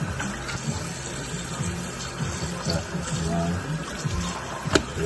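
Raw chicken is washed under a running tap, the water splashing steadily and close, with soft handling noises and a faint voice underneath.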